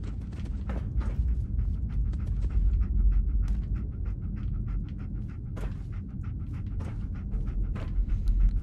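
A dog in the video game Fallout 4 pants rapidly and steadily, close and fairly loud, with a few soft footstep-like taps scattered through the breathing and no talking.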